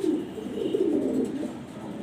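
A large grizzle racer male pigeon coos close up in a steady, deep, throaty rolling murmur that runs unbroken for about two seconds.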